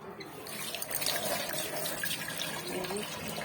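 Tap water runs steadily into a sink while prawns and small fish are washed by hand, a continuous splashing rush close by with a faint voice underneath.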